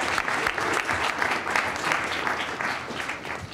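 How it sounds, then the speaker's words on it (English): Audience applause filling a room after a fintech startup pitch at a pitch competition, steady dense clapping sustained throughout at even volume, with no voices standing out. "let's give a round of applause for Rocket Dollar."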